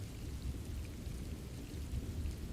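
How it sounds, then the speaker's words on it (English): Rain patters steadily on a roof, a dense, soft hiss with a low rumbling undertone, evenly sustained and fairly quiet. "Listen to the first few strikes of the rain. It hits the roof with a steady, rhythmic cadence."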